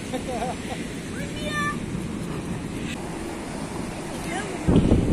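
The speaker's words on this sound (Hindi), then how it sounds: "हवा बहुत ज्यादा चल रही" Strong wind gusting at a seaside beach in Spain, a constant rough rumble of wind buffeting the microphone with surf behind it, louder near the end, while people talk faintly.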